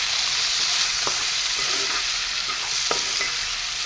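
Chicken curry frying in a wok while being turned, a constant bright sizzle with a few sharp scraping clicks of the spatula against the pan.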